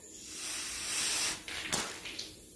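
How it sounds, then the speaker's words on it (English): Air hissing steadily into a pico balloon during a slow pressure test, a broad continuous rush that swells and then breaks into a few short, sharper bursts near the end. "That's going to allow us to put some air in the balloon."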